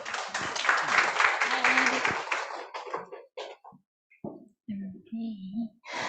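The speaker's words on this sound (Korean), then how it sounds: "박수 부탁드릴게요." An audience claps to welcome a speaker at a group business meeting: a dense burst of applause for about two seconds, then thinning into scattered claps before a voice starts talking.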